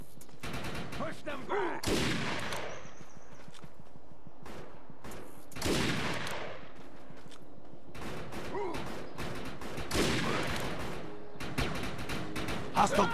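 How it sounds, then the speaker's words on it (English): Sustained firefight in the video game Defiance, with dense bursts of rapid gunfire and volleys at close range, shouted voices breaking through the shooting. "Covering fire!"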